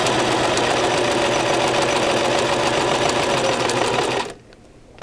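A Brother LX3014 sewing machine runs at steady speed while stitching the lining of a five-layer face mask, a loud, even mechanical whir that stops abruptly near the end.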